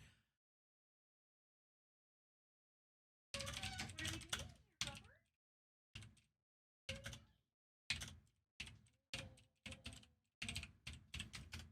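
Bursts of typing on a computer keyboard, close and crisp, starting after a few seconds of silence and arriving in short irregular clusters of keystrokes with pauses between them.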